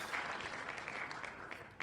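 A crowd at an NFL football game makes a continuous, distant roar of cheering and applause, heard as a low, even wash of noise without distinct claps or voices.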